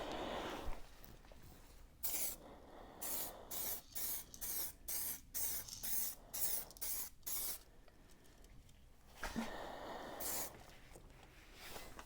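Aerosol spray paint can coating an engine oil pan, hissing in a long burst and then a rapid series of short, even sprays with brief gaps, close and fairly loud, no talk.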